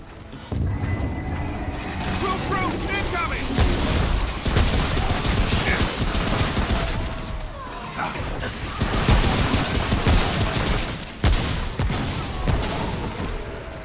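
Shotgun blasts ring out in a video game in repeated loud bursts over a dense, continuous din of gunfire and crashing, with players talking at times.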